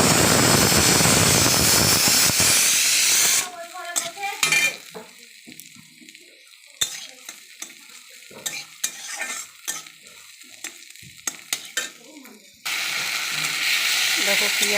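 Onions frying in a wok (kadai) during a Bengali potato, aubergine and tomato curry: loud, steady sizzling hiss at the start and end, with quieter clinks and scraping in between.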